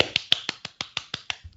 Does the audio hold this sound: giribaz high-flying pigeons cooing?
no